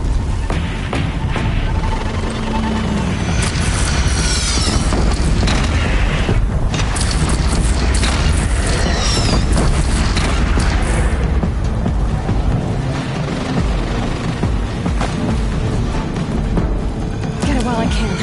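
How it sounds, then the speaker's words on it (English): Heavy cannon booms and crashing blasts from the Horizon Zero Dawn video game fill a loud, dense battle scene, with rumbling low impacts and clattering mechanisms running continuously throughout. "Take up my cannon!"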